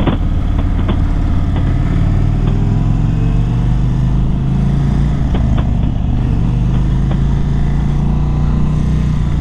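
A 2020 Indian Springfield Dark Horse 116 motorcycle engine thrums loud and steady throughout while riding, a deep continuous rumble with slight pitch swells.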